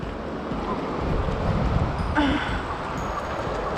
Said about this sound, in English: That's not really the sound of water. We call it the wind.